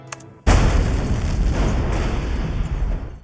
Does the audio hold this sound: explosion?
yes